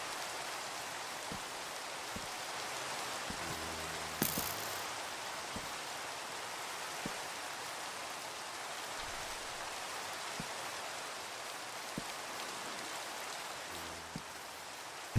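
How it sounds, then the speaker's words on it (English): Steady rain pours in the Minecraft video game as an even, continuous hiss, with a few soft low knocks and a brief bright burst partway through, and no voices. "It's because it's raining."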